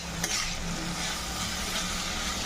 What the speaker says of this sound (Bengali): এই মশলা কিছুক্ষণ আমি কুঁদরি আলুর সঙ্গে মিক্স করে ভালোভাবে কষিয়ে নেব